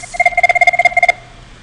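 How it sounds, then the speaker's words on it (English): An IP Communicator softphone rings for an incoming call on a Cisco voice lab line: a quick electronic ring pattern with about a dozen rapid, evenly spaced pulses, close and clear, that stops abruptly with no voices. "when I'm calling 2003, the phone is ringing"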